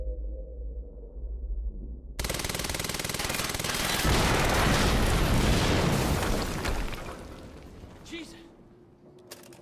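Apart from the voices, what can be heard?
explosion near perimeter in video game Quantum Break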